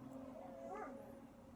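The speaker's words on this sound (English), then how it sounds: "Excuse my dogs, I'm so sorry." Pet dogs whimpering and letting out a short rising howl in a room, faint and somewhat distant, heard over a steady background hum with no clear talk.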